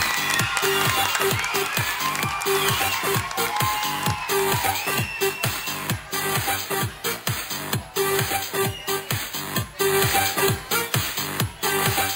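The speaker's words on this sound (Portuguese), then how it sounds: "Uma salva de palmas para a dupla vencedora e para todas as escolas participantes" An audience at a school quiz final applauds the winning pair and the participating schools with sustained clapping and some cheering, heard alongside a strong rhythmic music beat.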